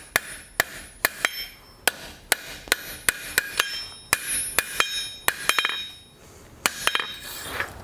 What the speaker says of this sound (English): I'm tilting my hammer to the side and spreading the material out